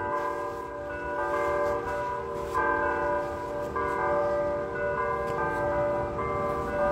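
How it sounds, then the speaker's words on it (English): Church bells ring repeatedly near a river on a spring Sunday morning, the strikes overlapping into a sustained, moderately distant peal with no speech. "the bells can stop ringing now"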